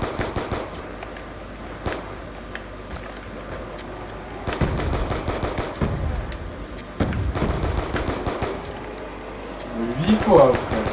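Gunfire in Call of Duty Black Ops 2 Zombies: bursts of rapid shots and booms from the game, mixed with background game noise and players talking over it.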